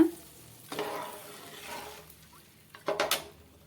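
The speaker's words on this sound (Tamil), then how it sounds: "இப்போ நான் நூற்றம்பது கிராம் வந்து புளியையும் வந்து கரைச்சி வச்சுருக்கேன் அதையும் சேர்த்துக்கலாம் சேர்த்துட்டு நல்லா கலந்து விட்டுருங்க" Tamarind water for tamarind rice is poured into a hot frying pan and stirred, giving a soft sizzle with brisk scraping strokes, then a louder burst of sizzling near the end.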